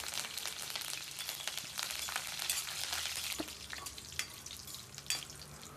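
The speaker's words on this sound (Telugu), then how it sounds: "అవి కొంచెం ఫ్రై అయిన తర్వాత అందులో గుప్పెడు కరివేపాకులైతే వేసేసుకుందామండి" Dried red chillies and curry leaves frying in hot oil in a pan, a soft, steady sizzle with scattered crackles and pops that stays fairly quiet.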